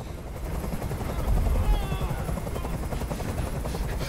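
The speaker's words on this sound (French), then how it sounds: "Fais dégager cet hélicoptère, maintenant!" A helicopter in the video game Detroit: Become Human throbs with a steady rotor chop, loud and hovering close, its rumble filling the scene without letting up.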